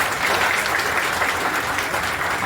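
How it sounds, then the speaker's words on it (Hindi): An audience at a public dialogue gathering applauds to welcome a speaker, a steady, dense wash of clapping that stays even and fairly loud throughout without any voices standing out. "तालियों के साथ स्वागत करें"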